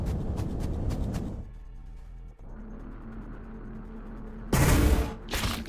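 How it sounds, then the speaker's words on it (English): Rockets fired during a Warhammer 40000 Battlesector multiplayer match between Tyranid and Tau forces: a rapid crackling volley of shots, then a steady mechanical hum, then a loud broadband blast near the end with a trailing burst. "He's launching his rockets."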